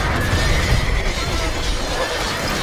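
Castle crumbling in the Honfoglalás strategy video game, a loud, sustained rumbling crash of broken masonry lasting a couple of seconds, dense and continuous without clear separate impacts.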